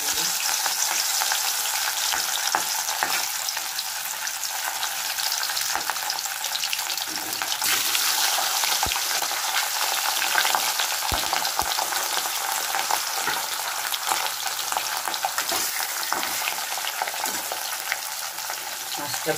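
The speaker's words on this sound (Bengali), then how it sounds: "মাছটা ভেজে নিই" Pieces of katla fish fry in hot oil in a wok, a steady loud sizzle and crackle with occasional sharper pops and stirring scrapes throughout, with no talk.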